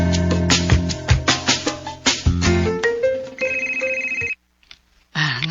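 A cellphone ringtone plays loudly and close, a rhythmic melodic pattern of repeating tones that switches to a sustained tone, cuts to near silence, then resumes briefly, with no speech over it.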